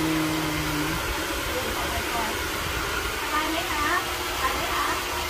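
A hair dryer blowing a child's hair after a wash, a loud continuous whooshing roar held close throughout, with a voice talking over it.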